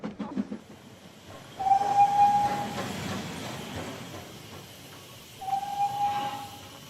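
A train rolls along the railway with a steady rumble and hiss, and two long whistle tones sound a few seconds apart.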